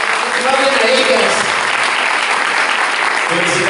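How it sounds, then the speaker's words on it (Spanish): A church congregation applauds, a dense, loud wash of clapping that holds steady from start to finish, close and continuous. "Un aplauso a ellos, por favor. Aplauden a ellas."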